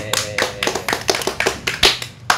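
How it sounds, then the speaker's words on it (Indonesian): A small group clapping hands in a podcast studio, about a dozen separate sharp claps in an uneven rhythm, close and clear with no talking. "Tepuk tangan."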